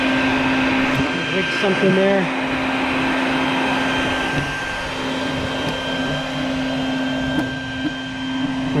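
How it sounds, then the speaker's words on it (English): A vacuum cleaner runs steadily with a hose set up to suck hornets from a nest at a front door, a constant loud mechanical drone while someone speaks briefly nearby. "I want to set up the vacuum hose. So I can back away, just let the vacuum do its work."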